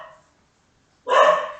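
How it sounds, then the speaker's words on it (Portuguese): Dogs bark in a burst of agitated noise as a man passes with three unleashed, unmuzzled pit bulls; a brief faint sound comes first, then a loud, close outburst of barking after a second of silence. "E aí os cachorros ficam nessa polvorosa."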